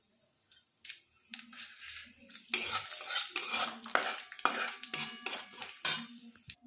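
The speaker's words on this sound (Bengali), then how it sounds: "তেলটা গরম হয়ে গেছে, এখানে আমি ফোড়নে দিচ্ছি শুকনো লঙ্কা, 5 ফোড়ন, দালচিনি আর এলাচ।" Dried red chilies, five-spice seeds, cinnamon and cardamom dropped into hot oil, with a soft crackling sizzle under repeated metal spoon clinks and pan scrapes, fairly quiet and close.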